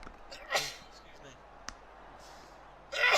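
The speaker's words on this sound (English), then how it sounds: "I keep sneezing" A single sharp sneeze bursts out from someone commentating on a football match, close and moderately loud, followed by quieter breaths and a short click.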